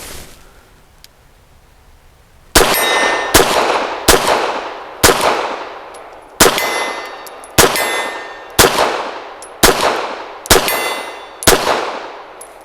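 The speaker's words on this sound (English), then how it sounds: "The gun ran with no problems" A Walther PD380 pistol fires MaxTech 95 grain ammunition, with about ten loud, sharp shots outdoors at roughly one-second intervals, each followed by a ringing decay and no talking.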